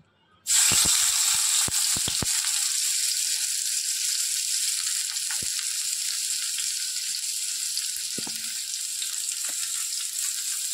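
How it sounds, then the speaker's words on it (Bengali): Chopped onion dropped into hot oil starts a sudden loud sizzle that stays broad and steady, easing slightly over several seconds, with a few faint clicks of stirring and no talk. "এবার আমি এই তেলের মধ্যে দিয়ে দেব পেঁয়াজ কুচি।"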